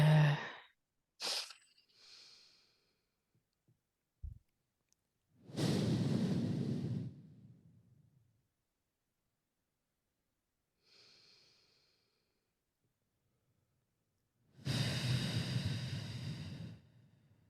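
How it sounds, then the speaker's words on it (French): Several slow, deep breaths in a quiet room during a French interview, long soft inhales and exhales with silent gaps between them, close and gentle, with no talking. "je t'invite aussi à prendre 3 grandes respirations"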